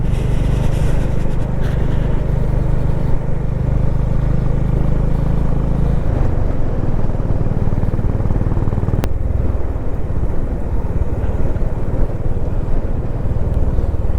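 A motorcycle rides along a dusty desert road, its engine droning loudly and steadily with heavy wind rush throughout and a slight shift in engine tone partway through.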